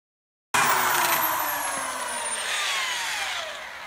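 A power drill with a 3/16 bit bores pilot holes during a front 4wd conversion kit install on a 1981-87 one-ton truck, a steady close high-pitched whine that starts abruptly and runs continuously, slowly dropping in pitch under load.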